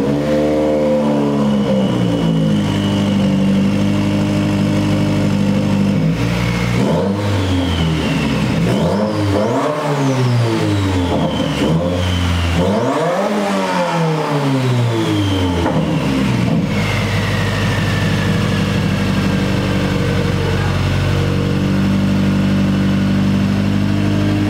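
A 2016 Subaru WRX with its exhaust pipe removed starts up and runs loud and close, with several throaty revs that climb and fall in the middle before it drops back to a raw, steady idle.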